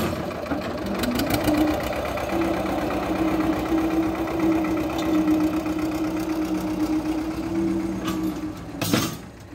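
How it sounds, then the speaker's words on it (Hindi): An Escort 335 tractor engine idles steadily at a low, even throb while the tractor loads fertilizer, its tone constant throughout, with a brief louder burst near the end. "सादा ट्रैक्टर"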